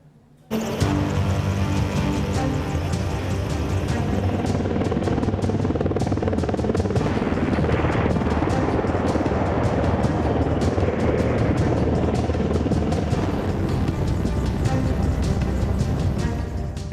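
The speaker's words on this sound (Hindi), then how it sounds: "इंडियन एयरफोर्स के बेड़े में शामिल हेलीकॉप्टर अपाचे AH-64E को दुनिया का सबसे खतरनाक हेलीकॉप्टर माना जाता है" Apache AH-64E attack helicopter of the Indian Air Force flying at an air force display, a loud sustained rotor and turbine roar that starts abruptly and holds steady throughout.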